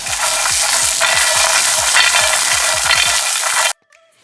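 Peanuts, green chillies and garlic roast and get stirred together in a pan, giving a loud steady sizzle with repeated scraping strokes, then stopping abruptly near the end.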